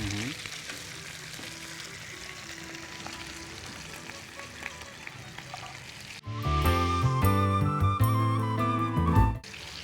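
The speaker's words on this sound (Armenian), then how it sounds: "բեկոնի կտորներ այստեղ տապակեցինք։" Bacon pieces frying in a pan give a steady low sizzle and crackle, then a louder, fuller burst of kitchen sound joins for the last few seconds before cutting off.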